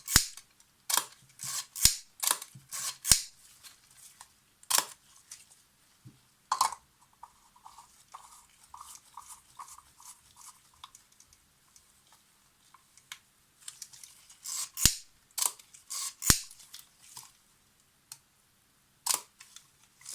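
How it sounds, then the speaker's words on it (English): Zorki 6 rangefinder camera shutter firing repeatedly, sharp quiet mechanical clicks in irregular bursts separated by near-silent gaps, with small winding and handling sounds between releases. "The shutter is pretty quiet."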